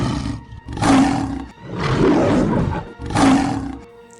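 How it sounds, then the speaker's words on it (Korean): Loud lion roaring as an audiobook sound effect, three long, deep roars in sequence, each swelling and fading with brief pauses between, close and alone. "사자의 포효 소리가 너무 컸던 탓에"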